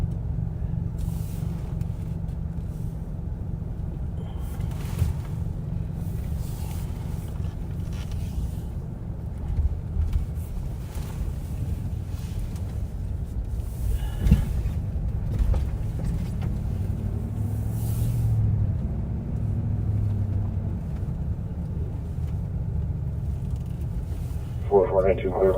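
A sheriff's patrol car cruising along, its steady low road and engine rumble continuous throughout, with faint radio chatter and occasional bumps over it.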